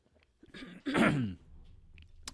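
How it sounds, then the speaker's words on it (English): A single harsh cough bursts out close to the microphone after a few soft breaths, followed by quiet shuffling. "Please forgive all the coughing."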